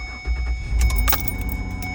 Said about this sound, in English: And start your car.